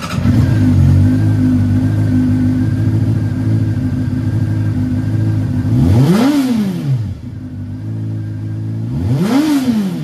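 A 2009 Honda CBR 600RR sport motorcycle engine, heard loud and close as it idles steadily, then gives two sharp revs that rise and fall back to idle.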